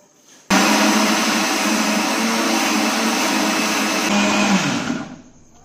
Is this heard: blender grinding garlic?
yes